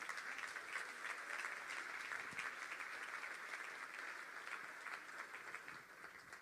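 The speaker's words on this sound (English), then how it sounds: "let's give them a round of applause" An audience at a motivational speaking event gives a round of applause: steady, dense clapping that stays even and tapers slightly at the end, with no talking over it.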